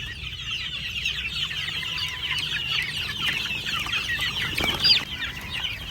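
A month-old chick clucks and peeps repeatedly at close range, with other fowl sounds and a soft outdoor background and no talk.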